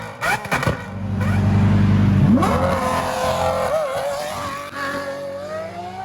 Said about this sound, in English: This is the first time I've ever heard an exhaust on an SVJ.